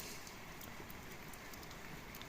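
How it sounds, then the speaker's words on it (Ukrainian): Steady rain falls outdoors on an old VAZ 2109 during an oil change, a dense, even hiss with scattered drips throughout and no talking. "думаю, що зараз дощ перестане"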